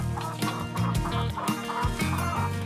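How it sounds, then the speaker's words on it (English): A speckled Sussex hen free-ranging outdoors with her older chicks in the morning, clucking steadily and close, backed by a continuous musical bed. "A speckled Sussex hen is taking her older chicks for a morning stroll."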